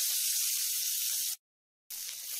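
Onions and green chillies sauté in a pan with a steady, bright sizzling hiss that cuts out briefly to silence before resuming just as strongly.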